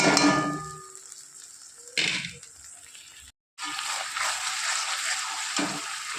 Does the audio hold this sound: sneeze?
no